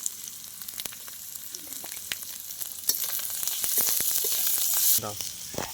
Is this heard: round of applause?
no